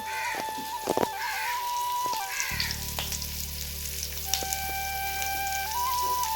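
Masala paste with salt, turmeric and garlic sizzles and fries in hot oil for a mushroom masala, a steady close crackle with stirring scrapes and a low hum underneath, no talking.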